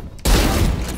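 A single loud gunshot in the tactical shooter Valorant, an abrupt close blast after a brief quiet moment, followed by a dense ringing tail that fades slowly.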